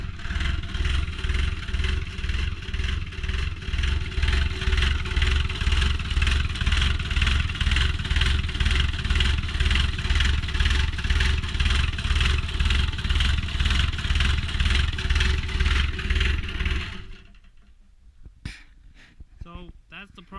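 A Takeuchi TB180FR mini excavator's engine runs on its own with a steady, loud, pulsing drone and a tight rhythmic throb for most of the stretch, then cuts off sharply and leaves a few faint clicks and rattles.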